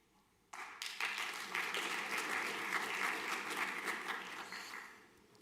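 Applause erupts suddenly at a senior school prizegiving, many hands clapping at once from a seated audience, holding steady and fairly distant before tapering off into quiet.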